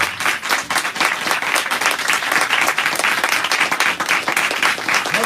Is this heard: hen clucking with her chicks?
no